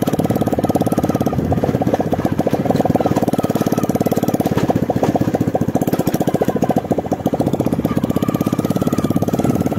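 A tractor engine idling while stopped on a rough road, a loud, steady, close mechanical chugging with rapid even pulses throughout and no speech.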